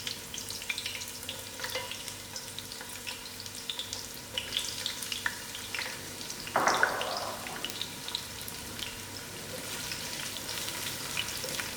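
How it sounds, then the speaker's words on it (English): Onions frying in hot oil for a green jackfruit curry, a steady soft sizzle with a brief louder crackling burst partway through, no voices. "I'm going to allow these onions to fry for about 5 minutes."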